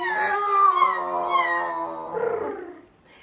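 A human voice imitates a kitten's meow with one drawn-out, wavering tonal cry that rises and slides down, close and fairly loud with no other sound.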